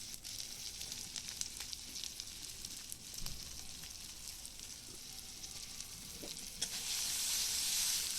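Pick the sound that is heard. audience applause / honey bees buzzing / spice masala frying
spice masala frying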